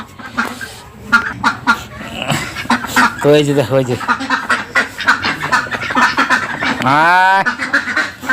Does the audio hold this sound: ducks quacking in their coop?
yes